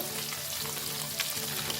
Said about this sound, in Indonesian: nggak usah lama-lama kita goreng ikan terinya nanti